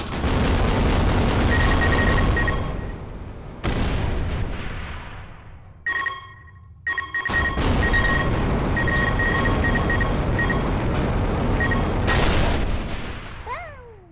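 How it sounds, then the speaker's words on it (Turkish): A Coca-Cola and Mentos bomb in a PC video game goes off, with loud sustained blasts and crackling bursts across several seconds, then a brief gap and more explosions, ending in a fading whistle. "Şimdi patlar belki. Coca Cola, X Bomba."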